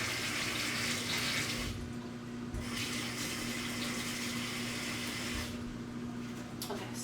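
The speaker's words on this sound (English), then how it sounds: "let me rinse my hand" Tap water runs steadily from a faucet into a sink as hands are rinsed, a continuous close splashing hiss with a brief pause in the middle, alone without talk.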